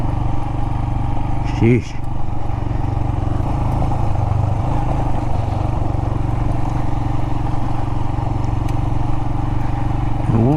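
A Royal Enfield Himalayan motorcycle rides over desert gravel and sand. Its engine drones steadily and loudly throughout, with wind rush, a brief shift in pitch near the start and a short exclamation from the rider.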